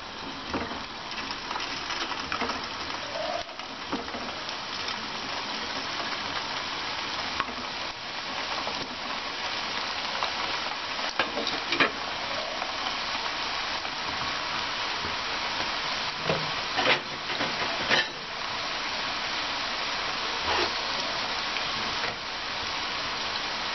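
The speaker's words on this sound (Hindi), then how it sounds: "बिल्कुल लो फ्लेम पर हमने गुलाब जामुन को फ्राई करना है।" Semolina gulab jamun frying in oil over a low flame, producing a continuous soft sizzle and bubbling hiss that holds steady for the whole stretch, with occasional small crackles and no talk.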